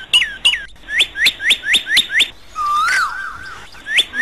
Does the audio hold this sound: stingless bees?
no